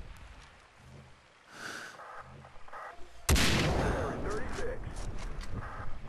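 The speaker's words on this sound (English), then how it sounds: "Oh my god, it's a missile!" Missile strike in the video game Far Cry 3: a sudden loud explosive boom hits midway, followed by a sustained roaring rumble and debris noise, after quieter gameplay sounds and faint background talk.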